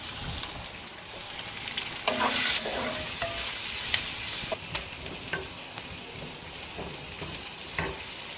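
Mint leaves and tomatoes frying and being stirred in a pan for a Tamil kovakkai (ivy gourd) gravy, with a steady close sizzle broken by scraping stirs and a few sharper clinks, no voices.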